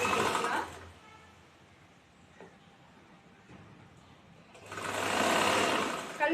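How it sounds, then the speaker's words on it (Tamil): A sewing machine stitching a churidar runs in two loud, close bursts of rapid mechanical chatter, with a quieter stretch between them. "ஸ்ட்ராங் தையல் போட்டுக்கலாம்."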